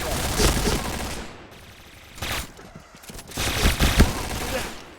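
Bursts of automatic gunfire in the Point Blank shooter arrive in three loud clusters of rapid shots separated by brief quieter gaps, with a voice faintly under the shooting.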